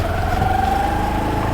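A scooter engine hums steadily while riding toward a beach in Varkala, a continuous close drone with a faint whine and wind rumble underneath.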